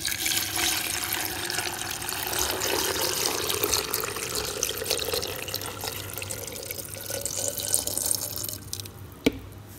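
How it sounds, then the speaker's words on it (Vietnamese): A fish sauce and sugar mixture poured over pickled scallions in a jar, a steady close splashing trickle of liquid that runs continuously, ending with a light knock. "Cho hỗn hợp nước mắm đường vào các bạn"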